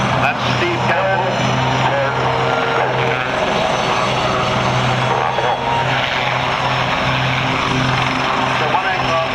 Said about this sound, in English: So one aircraft goes down and actually lands on, while the other aircraft stays airborne.